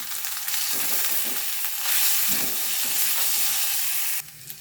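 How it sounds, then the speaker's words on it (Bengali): Onion paste mixed with garlic and ginger paste fries in a pan with a loud, dense, continuous sizzle that swells now and then and drops away sharply near the end. "রসুন আর আদা বাটাটা ভালোভাবে আমি পেঁয়াজের সাথে মিশিয়ে নিয়েছি। এবার আমি পেঁয়াজ বাটাটা দিয়ে দেবো।"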